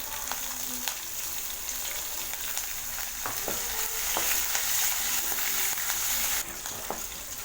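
Green chillies frying in hot oil with cumin give a steady, bright sizzle close by, broken by a few soft clicks from stirring, with no voices.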